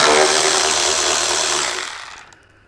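A power tool loosens motorcycle lower fairing bolts with a close, loud, steady high-pitched whirring run that winds down and stops near the end.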